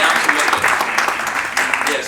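Audience at a church summit applauds as a minister goes up on stage, a loud steady patter of clapping with voices mixed in.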